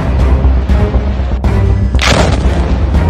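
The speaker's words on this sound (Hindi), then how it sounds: "तीसरा धमाका" Heavy explosions during the Israel–Hamas fighting in Gaza, with a rumbling low drone punctuated by repeated booming thuds and one especially sharp, bright blast midway, loud and near.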